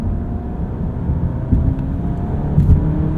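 A 2-liter turbo Alfa Romeo Giulia Estrema with an 8-speed paddle-shift gearbox hums steadily from inside the cabin, and two short bumps in engine note mark quick gear changes, with no talking.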